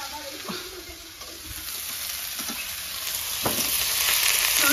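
Food frying in a pan in a home kitchen, a soft steady sizzle with occasional stirring knocks, growing slightly louder toward the end, heard close with a faint voice in the background.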